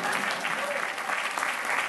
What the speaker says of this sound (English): Yeah, you can clap for Amanda.